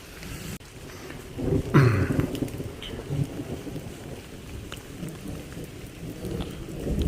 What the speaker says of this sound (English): lots of lightning strikes and thunder